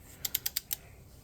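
Five quick metallic clicks in a steady rhythm, close and crisp, like a ratchet wrench turning during a K24 Honda Accord knock sensor replacement, then quiet.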